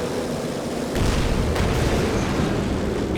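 High-explosive artillery barrage in the video game Company of Heroes 2, with a steady broadband rumble that thickens into a continuous roar of overlapping blasts, loud and sustained with a few sharper bursts, no talk.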